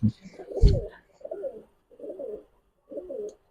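High-flyer pigeons coo nearby at a pigeon market in four soft, throaty phrases separated by short pauses.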